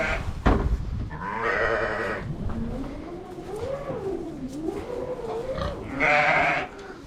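Sheep bleat on a hot day at a farm that also keeps pigs and goats, several wavering calls close by, with louder bursts near the start and end.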